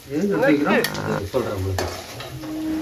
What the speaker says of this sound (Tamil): மீண்டும் நன்கு வதக்கிக் கொள்ளவும்